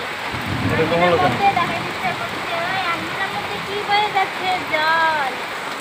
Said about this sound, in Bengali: ঝড় বৃষ্টি দুটোই হচ্ছে বন্ধুরা